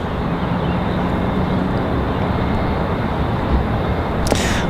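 A Republic Airways airliner bound for New York LaGuardia runs its jet engines at Raleigh Durham airport, making a steady broadband roar from a distance with a brief sharper burst near the end.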